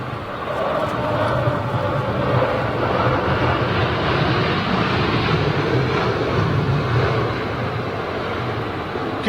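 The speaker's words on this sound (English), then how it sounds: "Oh, it's United, isn't it? Dreamliner." A United Boeing Dreamliner airliner arriving at London Heathrow in strong wind, a steady loud engine roar mixed with gusty wind buffeting that holds throughout without any talk.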